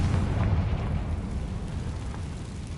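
A Confringo blasting spell detonating in the video game Hogwarts Legacy, a loud, deep rumbling explosion that hits at once and slowly fades into a dull roar with no voices.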